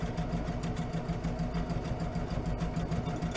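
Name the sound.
sewing machine back stitching a tote bag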